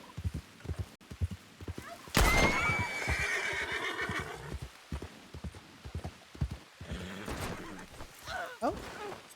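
A horse in a video game neighs loudly in a long, shaky whinny amid hoof clip-clops, with a person talking over it before and after.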